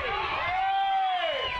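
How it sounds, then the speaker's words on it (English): Large stadium crowd at a professional soccer match in Orlando, a steady dense roar of murmuring voices with rising whoops and a cheer swelling mid-way, broad and continuous throughout. "Crowd getting restless here in Orlando."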